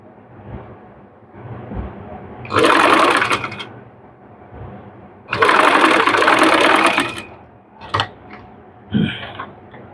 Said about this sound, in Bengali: এখান দিয়ে একটা সেলাই দিয়ে নিব, সেলাই দিয়ে আটকে নিব।